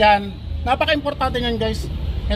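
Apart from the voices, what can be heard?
No distinct noise like a dog, phone or traffic.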